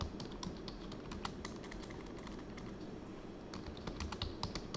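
Rapid typing on a computer keyboard, a steady run of light, close key clicks with brief pauses, heard alone with no voices.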